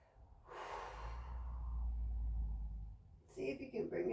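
A deep exhale runs through the nose during a yoga-inspired calisthenics routine, a long breathy rush lasting a few seconds, close and steady, followed by a brief burst of breath or movement noise.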